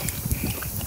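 A dog laps water from a bowl, a quick run of wet splashy licks, close and fairly loud for about a second.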